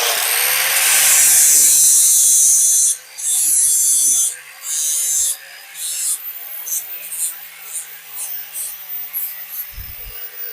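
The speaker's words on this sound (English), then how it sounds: "I'm going to sand that off now." Power sanding on trim of a 1962 Dodge Dart, a high whirring grind running in several bursts with short stops, then fainter rough scraping; a voice speaks briefly.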